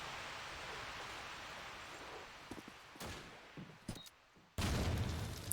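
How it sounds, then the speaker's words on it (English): Grenades explode in a Call of Duty 2 match: a few sharp, faint blasts land with gaps between them, then a louder burst cuts in near the end over quiet background noise. "Oh, nades landing just outside."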